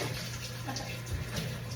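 Water poured out of a big bowl used for washing dirty produce while making cold-press juice, a steady close splashing pour running continuously with no talk.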